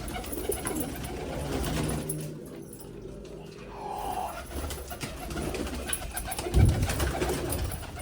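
Pigeons in a loft of Teddy golden dubwale birds coo in low rolling bursts at moderate distance, with a brief thump near the end and some background noise.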